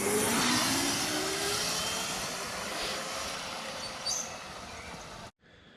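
A Razor MX500 electric dirt bike rides past, its loud whining motor hum rising and fading steadily over about five seconds before cutting off abruptly, with no talk.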